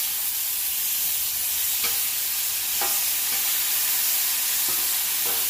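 Burger patties for a cheeseburger sizzle steadily on a hot grill, a loud continuous frying hiss with a few faint scrapes as they are flipped toward the hotter side.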